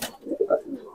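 Malwai pigeons at a loft give a few soft, close coos in quick succession, faint and brief against a quiet background.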